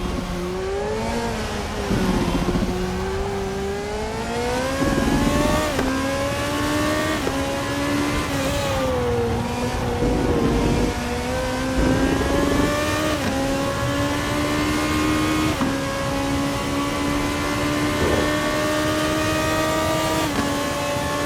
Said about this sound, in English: enjoy the sounds of RaceRoom racing experience